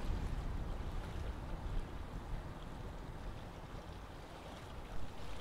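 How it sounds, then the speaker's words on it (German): Excursion boat Concordia 2 heading back toward Carolinensiel on the North Sea coast, heard as a steady low rumble of engine and water wash with wind noise over the microphone, continuous and fairly distant. "Und hier fährt die Concordia 2 wieder zurück in Richtung Karolinensiel."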